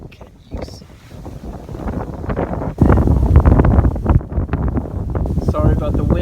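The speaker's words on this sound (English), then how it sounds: "Sorry about the wind." Heavy wind buffeting a microphone outdoors during a car tie rod and rack mount installation, a loud continuous rumbling roar that swells and dips throughout.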